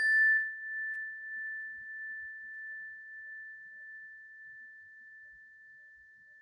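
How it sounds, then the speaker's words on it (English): A meditation bell strikes once with a clear, sustained ring that slowly fades away, alone in a quiet room. "Letting your awareness follow the sound of the bell."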